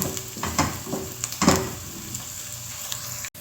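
Onions fry in hot oil with a soft continuous sizzle, broken by several louder scraping stirs of a spoon against the pan, close up with no talking.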